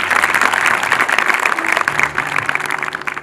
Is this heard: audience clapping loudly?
yes